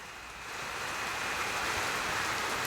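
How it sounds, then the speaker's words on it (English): Heavy rain pours outdoors during a flood, a dense steady hiss that swells after a moment and holds loud and continuous, with traffic blended into the wash. "It is so noisy out here with the rain and the traffic."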